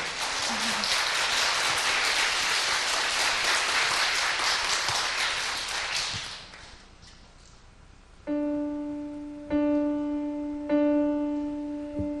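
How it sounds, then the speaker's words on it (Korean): A church audience claps along in a dense, steady burst of applause that fades out, followed by sustained keyboard chords ringing alone. "이제 박수 쳐줘도 좋은데요"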